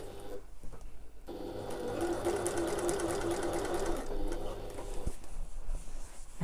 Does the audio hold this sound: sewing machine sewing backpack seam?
yes